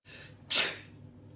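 A single sharp sneeze bursts out close by after a brief intake of breath, with another sound cutting in right at the end.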